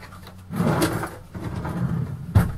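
A galley drawer in a Travco motorhome slides open and shut a few times, with close wooden scraping and a soft thump at the end.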